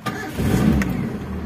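A 1995 Daihatsu Zebra Espass with a 1300cc engine cranks briefly and catches, settling into a steady close-up idle rumble with no voices.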